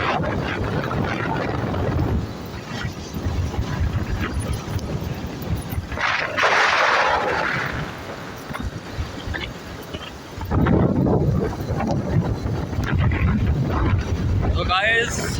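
A Suzuki GD 110S motorcycle rides along with heavy wind buffeting the microphone and a constant engine hum. Someone talks over the noise for most of the ride, and gusts of wind swell loudly twice.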